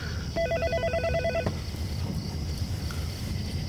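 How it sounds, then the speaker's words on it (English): A telephone rings in a burst of electronic tones, loud and close, stopping after about a second over steady low rumbling background noise. "You figure that phone's gonna ring pretty soon, Mr. Jenkins?"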